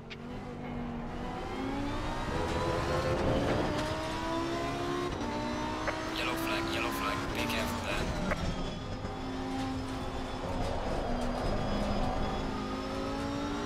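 Racing cars in a video game, a Honda and a VW among them, give a steady, loud layered engine drone with rising and falling revs throughout, while a voice talks over the race.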